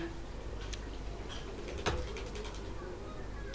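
A female pigeon coos softly in a short low burst amid steady background noise, with faint ticking sounds around it.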